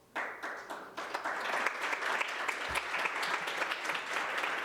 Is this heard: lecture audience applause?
yes